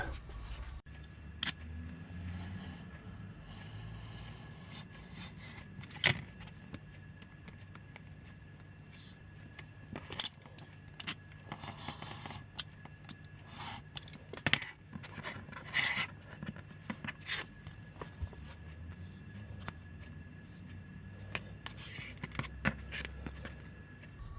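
A vintage 1985 G1 Transformers Shockwave/Superion carded decoy being cut up, with sporadic close snips, rasping scrapes and clicks over low background noise.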